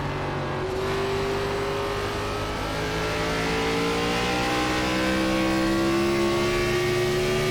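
Gen 4 NASCAR Cup cars in the iRacing simulator at Richmond Raceway drone steadily throughout, their engine pitch slowly rising as they accelerate, with no voices over the loud, continuous roar.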